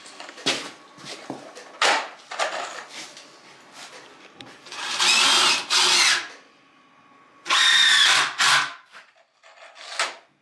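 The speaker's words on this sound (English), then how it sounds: "we'll screw those together with the 3-inch screws" A power drill drives 3-inch deck screws into wood in short bursts, with two longer, louder runs midway, separated by knocks and handling of the boards.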